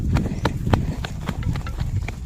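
Horse hooves clop loudly and close in a quick irregular rhythm over a low rumbling outdoor background, with no talk.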